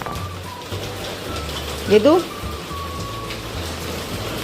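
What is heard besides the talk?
rain falling outside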